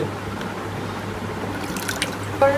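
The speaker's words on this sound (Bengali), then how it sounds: "আবার পানি দিচ্ছ ভিতরে" Water pours into a cooking pot of pigeon meat curry, a steady splashing trickle that runs unbroken for a couple of seconds, fairly close and moderately loud, with no voices over it.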